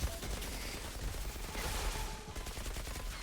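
An auto turret firing in the shooter game Outriders, a dense, continuous rattle of rapid gunfire that stays loud and close for the full stretch with no pauses.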